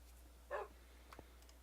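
A dog in the video game Crystal Quest gives one short, faint bark against a low steady hum, followed by a couple of softer yips.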